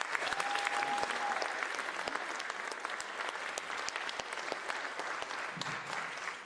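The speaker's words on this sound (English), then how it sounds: "let's give a big round of applause to Megan Freitag" Audience applause for a student at a student media showcase: steady, dense clapping from a crowd that holds throughout, with a faint brief tone early on.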